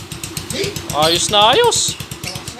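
A Motorstar motorcycle engine, freshly overhauled with original timing gear, idles with a steady low rhythmic putter while someone speaks over it.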